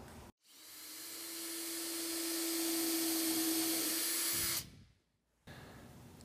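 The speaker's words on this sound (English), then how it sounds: "Rip the divider strips to this width using your table saw." A table saw rips plywood divider strips: a loud steady whine and hissing roar holds for several seconds, cuts off, then starts again briefly.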